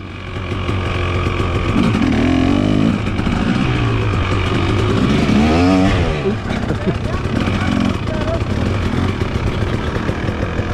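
A dirt bike engine revs hard as the bike pulls out of a turn, loud and rising in pitch, with a second engine droning in the background and a voice talking over it.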